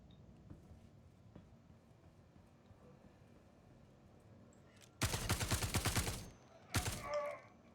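Two short bursts of rapid automatic gunfire in the sci-fi shooter Star Citizen, the first about a second long and the second briefer, loud against a quiet background with faint thumps beforehand.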